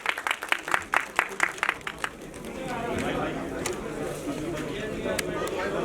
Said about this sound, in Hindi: प्लीज जोरदार तालियां हो जाए